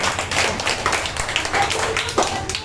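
Schoolchildren in a classroom clap quickly for a classmate, a dense patter of overlapping hand claps lasting a few seconds, close and fairly loud, with no speech over it.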